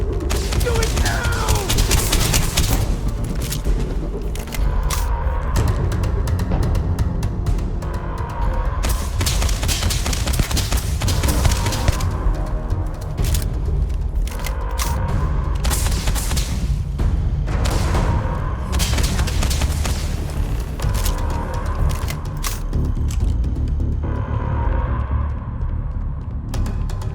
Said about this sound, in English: Shoot to disable. Fire! Stun them!